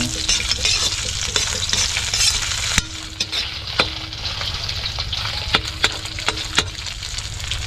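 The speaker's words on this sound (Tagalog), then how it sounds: "Ginisang bawang sibuyas" Garlic and onion sauté in a hot pan with a loud, close sizzle, punctuated by sharp stirring clicks and spatula scrapes that grow more frequent toward the end.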